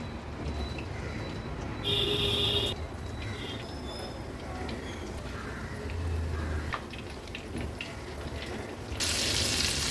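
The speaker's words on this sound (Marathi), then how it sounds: "हे बघा, शेवटची आपण ही प्रॉन्सची बॅच तळत ठेवली आहे." Batch of koliwada-style battered prawns deep-frying in hot oil, a steady close crackling sizzle running throughout with a few brief brighter bursts of clatter.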